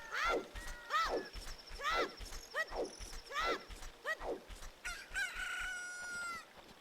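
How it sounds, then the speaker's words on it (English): A rooster crows repeatedly in the video game Ocarina of Time, several rising-and-falling cock-a-doodle-doo calls in quick succession over a busy backdrop of game music and footsteps. "the egg that we had has hatched into a chicken"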